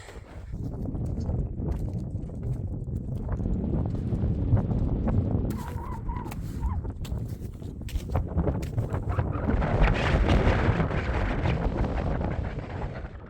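Strong winter wind roars across a mountain summit, a steady buffeting rush that builds louder toward the end, with gusty flutter throughout and no talking.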